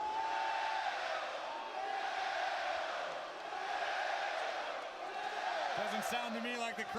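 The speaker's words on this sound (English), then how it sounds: "Doesn't sound to me like the crowd's very happy." Unhappy crowd at a WWE and AAA wrestling event, a loud sustained roar of booing and jeering that swells and dips, with commentators talking over it.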